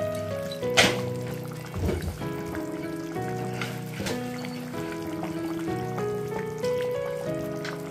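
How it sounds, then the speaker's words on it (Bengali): Pieces of katla fish are dropped one at a time into a bubbling curry with cauliflower and potato, giving a few soft splashy plops over a steady simmering sizzle, with background music throughout and no talk. "এবারে আমি মাছগুলো দিয়ে দিচ্ছি এক এক করে।"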